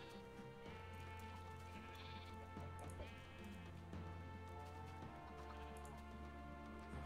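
Sheep bleat repeatedly in Minecraft, the blocky game animals sounding over a steady tonal background of game music, with no talk.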